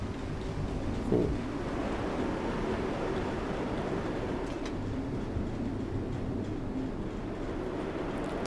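Roller coaster trains run in the theme park game Parkitect as a steady, continuous rumble and rattle, with a brief louder clunk near the start and a faint sparse ticking on top, and no voices.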